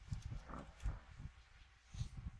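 Horse hooves in the Minecraft video game, a few soft low clip-clop steps in an uneven rhythm, close and fairly quiet.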